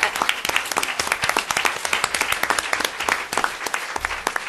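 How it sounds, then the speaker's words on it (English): Audience applause breaks out as project staff are called to stand and be honoured at an end-of-project event on tackling maternal deaths, a dense, steady patter of many hands clapping close by with no talk over it. "I want to give them a big round of applause."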